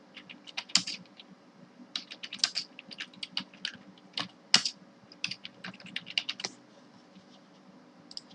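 Typing on a computer keyboard at a desk, irregular close clicks and key taps in quick bursts over a faint steady hum, with a quieter pause near the end.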